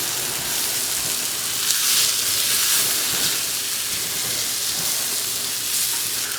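A tablespoon of butter sizzles in a hot pan with shallots for pan-roasted chicken, giving a steady, bright hiss that runs unbroken and alone at moderate loudness.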